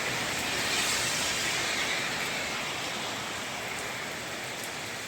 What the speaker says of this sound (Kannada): ನೋಡಿ ಗಾಯ್ಸ್ ಎಷ್ಟು ಮಳೆ ಬರ್ತೈತೆ.